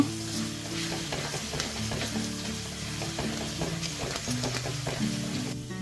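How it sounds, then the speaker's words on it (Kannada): Garlic sizzles steadily in hot oil in a pan as Tamarind tokku is made, with a continuous close frying hiss and repeated scraping stirs. No one speaks over it. "ಬೆಳ್ಳುಳ್ಳಿ ಸರಿಯಾಗಿ ಗೋಲ್ಡನ್ ಬ್ರೌನ್ ಆಗುವವರೆಗೆ ಇದನ್ನು ಫ್ರೈ ಮಾಡಬೇಕು."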